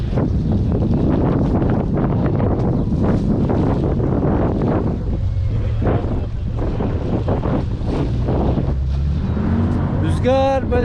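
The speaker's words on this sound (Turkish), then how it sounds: "Bu taraftan doğru esiyor böyle." Strong outdoor wind buffets the microphone with a loud, continuous rumbling roar that swells and eases, and faint voices can be heard underneath.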